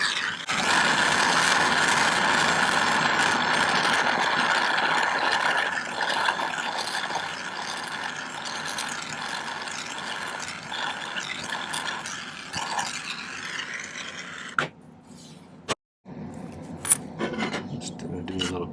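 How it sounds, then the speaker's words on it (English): Steady rasping strokes of a file cleaning up rough edges on a silver book locket on a silversmith's bench, loud and continuous at first, then thinning out with a few clinks near the end. "Cleanup filing for rough edges on here."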